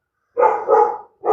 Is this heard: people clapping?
no